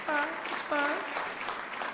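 Audience clapping breaks out during a Philadelphia mayor's public update on a proposed Sixers arena in Center City, a steady dense patter running under a speaking voice.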